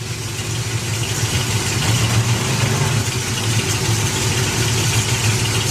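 Wrathchild hot rod engine at a drag strip in the Wild Bunch class at dusk, a loud continuous rumbling idle with a rough, lumpy low throb that holds steady throughout.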